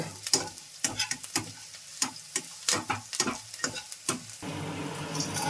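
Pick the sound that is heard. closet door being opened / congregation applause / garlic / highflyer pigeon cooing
garlic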